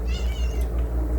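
A house cat gives one clear, fairly loud meow close by, drawn out over about a second, with a low background hum beneath it.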